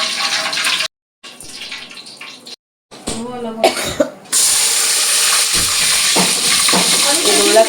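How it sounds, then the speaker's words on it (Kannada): Onions sizzle in a hot pan at home during cooking for a bottle gourd dalcha, a loud, steady frying hiss with a few brief cuts and stirring noises. "ಇದು ಉಳ್ಳಾಗಡ್ಡಿ ಅಷ್ಟೇ ಫ್ರೈ ಮಾಡಕತ್ತಾರ."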